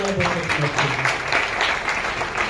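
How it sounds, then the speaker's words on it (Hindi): Audience applause at a business plan presentation, dense clapping from a room of people that carries steadily throughout, with a voice briefly audible early on beneath it. "जोरदार ताली होनी चाहिए।"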